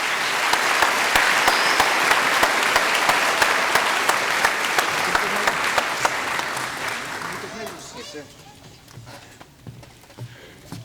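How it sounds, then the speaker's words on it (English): A concert audience at a Beethoven-and-mariachi evening applauds loudly and continuously as a guest walks up to the stage, the clapping fading out toward the end. "Can we give him a round of applause as he walks up here,"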